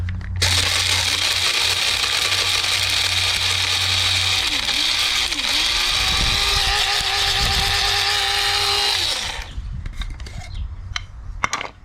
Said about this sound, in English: So throw it in the grinder just like you would coffee beans, and then give it a nice grind.